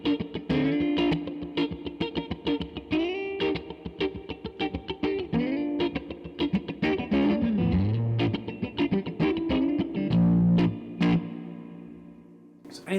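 An electric guitar, a Collings 360LTM through a Tone King Falcon Grande amp, plays a bright, clean, scooped rhythm with effects, chords and picked notes ringing out before fading at the end.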